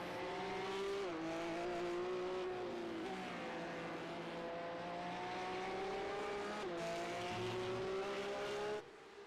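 Race cars corner at Sebring International Raceway, steady engine drone with pitch dips and climbs as drivers lift and accelerate through turns, tires working at the grip limit, fairly distant and even for about nine seconds.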